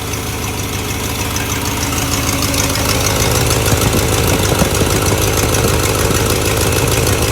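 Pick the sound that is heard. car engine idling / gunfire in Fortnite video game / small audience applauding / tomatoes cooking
car engine idling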